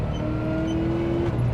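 A Vauxhall Holden Monaro with an LS1 V8 engine, a steady low engine drone with a sustained mid tone, running continuously and fairly loud with no voices.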